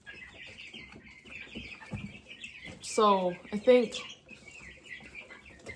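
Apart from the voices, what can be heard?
young chickens clucking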